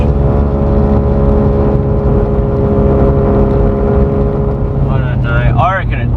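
A Mazda RX8 with a 13B rotary engine, suffering several faults and struggling to rev, held flat in first gear. It gives a loud, steady, buzzing drone at constant pitch, close by, with a brief voice near the end.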